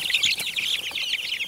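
A big flock of young chickens clucks and chirps continuously, many birds calling over one another at close range, busy and fairly loud throughout.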